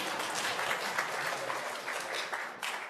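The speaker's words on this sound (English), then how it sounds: "You guys could clap again." An audience at a city council meeting applauds officers being honored for hurricane relief, with steady, moderately loud clapping from many people throughout and no talking.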